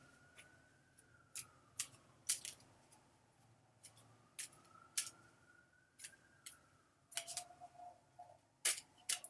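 A deck of playing cards is shuffled in a run of crisp, sharp snaps and riffles at irregular intervals, close by, over a quiet background with a faint steady whine.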